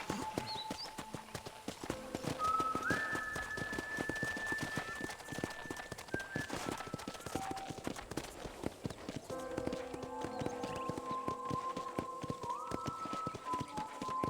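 Steady clip-clop of horse hooves on a ranch in Red Dead Redemption, a brisk even trot close by, with soft tonal game music running underneath.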